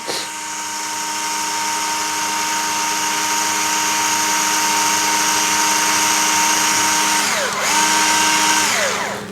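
Steady loud mechanical whir of a power driver turning a 2.5mm hex bolt out of the trailing arm of a Losi Super Rock Rey RC car, running continuously with a brief dip and pitch shift near the end.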